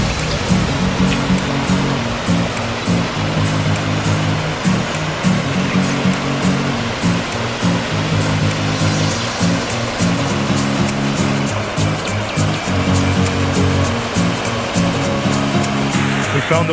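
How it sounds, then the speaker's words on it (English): Steady broadband rush of a small waterfall along a garden path in the Montreal Botanical Garden in spring, close and continuous, with a faint low hum and occasional distant voices underneath. "the waterfall is getting louder and louder"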